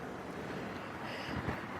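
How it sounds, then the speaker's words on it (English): Gusty wind blows outdoors across the microphone at a TV news location report, a steady broadband rush that swells slightly toward the end. "It sounds windy anyway."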